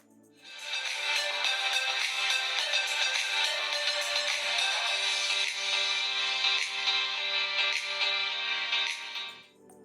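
A smartphone loudspeaker plays a bright, tinny audio sample that starts abruptly, runs steadily loud for about nine seconds, then fades out.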